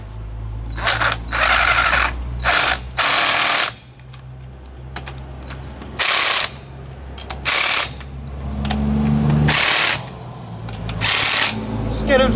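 Power tool snugging the wheel nuts on a 4BT-swapped truck: repeated loud whirring bursts of an impact gun, each a second or so long, separated by brief pauses, with a person talking between them.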